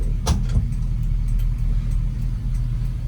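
An LS-swapped 1966 Chevrolet C10 with a badly slipping transmission idles loud and close with a deep steady rumble, a brief rev flaring early and then settling back to a lumpy idle.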